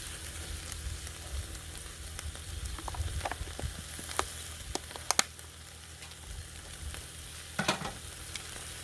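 Bread frying in butter on a hot griddle gives a steady, close sizzle and crackle throughout, with a few sharper pops and scrapes standing out above the constant hiss.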